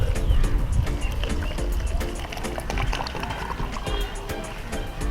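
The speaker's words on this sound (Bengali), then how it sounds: "এর মধ্যে জল দিয়ে দেবেন পুরোটা ভর্তি করে দিয়ে দেবেন" Water pours steadily into a plastic bottle set in a garden pot's soil, a continuous splashing gurgle that carries on through the whole stretch with no voice over it.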